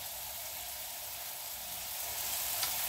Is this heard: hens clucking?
no